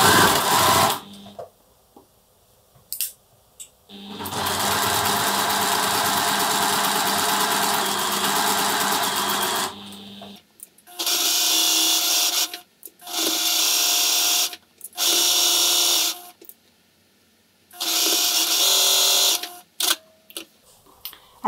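Sewing machine stitching pinned quilt squares, running in bursts: one long continuous run of several seconds, then four shorter runs separated by quiet pauses, close and steady with a fast mechanical whirr.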